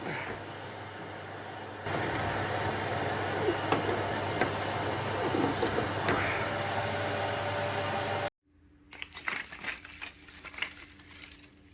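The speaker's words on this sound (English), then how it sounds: "I do find something therapeutic about hoovering out ash from a fireplace and having it nice and clean afterwards" Vacuum cleaner hoovering ash out of a cast iron wood burner fireplace, a steady loud broadband whoosh running for about eight seconds before cutting off abruptly, followed by quieter scattered clatter.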